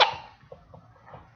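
A storyteller reading a children's picture book aloud voices a single sharp sneeze, a loud burst at the start that trails off into soft breathy murmurs; the sneeze is a human imitation, not a real one.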